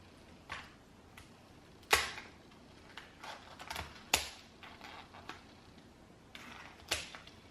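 Scissors snip through a boiled lobster shell at a seafood boil, giving sharp, close crunching clicks in irregular bursts, about eight snips spaced across several seconds with quiet gaps between.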